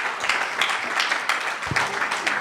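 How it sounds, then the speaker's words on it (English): Audience applause for a panel at a child protection and digital safety event, a steady wash of clapping that holds evenly through the moment with no talk over it. "So please join me in applauding this panel for their inputs."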